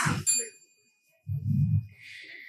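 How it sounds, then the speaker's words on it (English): A single debate timing bell struck once, a bright ring that decays quickly, followed by a brief murmur of voices and a faint hiss. "Contestants will be notified with one bell before their last minute, like this."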